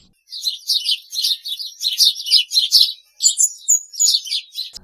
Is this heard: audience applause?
no